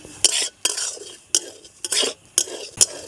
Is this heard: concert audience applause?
no